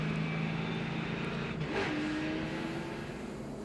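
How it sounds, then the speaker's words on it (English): NASCAR stock cars racing at the 2004 Chicago 400, a loud continuous engine roar with a car sweeping past mid-clip, its pitch dropping as it goes by. "There, Tony Stewart goes by the 40 car."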